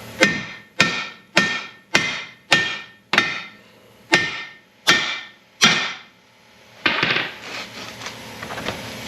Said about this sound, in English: Now that that's free, you just gotta beat it out.